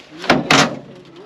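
An old pickup truck door handled in a junkyard gives two quick, close metallic clunks about a quarter second apart, then falls quiet.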